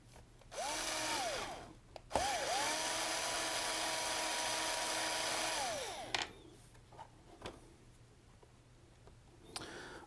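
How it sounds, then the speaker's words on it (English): A powered screwdriver drives metal screws into the plastic housing of an iRobot Roomba S9+ robot vacuum. The motor whines in two sustained bursts whose pitch rises and falls as each screw runs in and seats, then stops into quiet. "you do not want to over torque these screws. They're metal screws going into a plastic housing"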